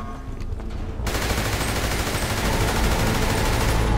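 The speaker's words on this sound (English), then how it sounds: "I'm finna shoot this cop" Gunshots in the GTA 5 roleplay game: after a moment of duller noise, a sudden loud, dense roar of rapid gunfire takes over and continues at full intensity to the end.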